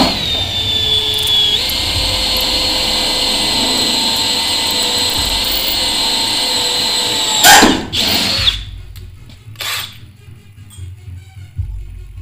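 A cordless drill whirs loudly and steadily for several seconds in a workshop, working on a Polonez car, its pitch shifting once, then stops; a few short clicks and bursts follow.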